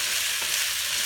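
Vegetables fry in a hot pan with a steady, close, loud sizzle and crackle that holds evenly throughout, with no talking.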